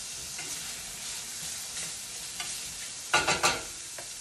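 Basmati rice stirred in hot oil in a pan for pilaf, a steady soft sizzle with scraping stirs, then a few louder clattering scrapes near the end; no talking.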